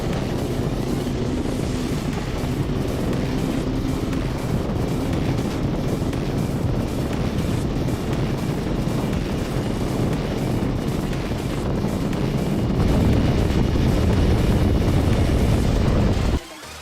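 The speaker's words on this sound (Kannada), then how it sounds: "ಈಗ ಬನ್ನಿ ಹೀರೋ ಎಕ್ಸ್ಪಲ್ಸ್ನ ಟಾಪ್ ಸ್ಪೀಡ್ ಅಚೀವ್ ಮಾಡೋಣ ಎಷ್ಟಾಗುತ್ತೋ ಅಷ್ಟು ಓಡಿಸೋಣ" A Hero Xpulse 210 motorcycle at top speed, about 125 km/h, is marked by a constant heavy wind roar buffeting the microphone, with the engine buried beneath it until an abrupt stop.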